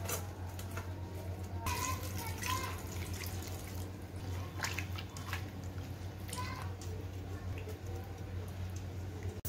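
Spinach leaves being washed under a running kitchen tap, a steady low stream with scattered splashes and drips as the greens are handled, fairly quiet, without speech.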